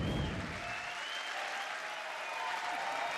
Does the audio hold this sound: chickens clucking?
no